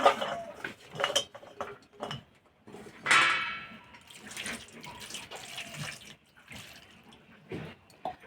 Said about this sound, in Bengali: একটা গামলায় নিয়ে ধুয়ে নেব